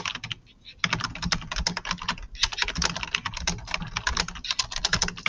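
Rapid, steady typing on a computer keyboard, close and clear, with dense clattering keystrokes after a brief pause at the start and no voices.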